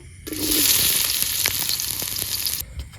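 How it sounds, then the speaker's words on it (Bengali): Onions dropped into hot oil in a village kitchen, bursting into a loud, bright sizzle that holds steady for about two seconds with a few crackles, then stops abruptly. "এবার পেঁয়াজগুলোকে ভেজে নেব।"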